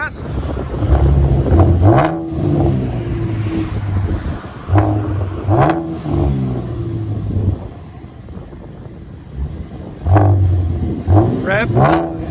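A 2015 Chevy Camaro with a 3.6L V6 and REV-9 axle-back dual exhaust revving, several separate throttle blips rising and falling in pitch with idle between them, loud and close, with some brief talk.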